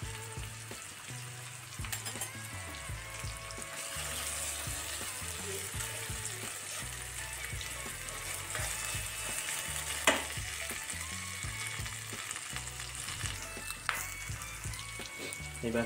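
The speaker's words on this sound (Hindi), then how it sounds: "अब इसमें हम ये लहसुन अदरक का पेस्ट ऐड करेंगे।" Steady sizzling and crackling from a hot pan as garlic-ginger paste fries, with occasional stirring clinks and scrapes throughout.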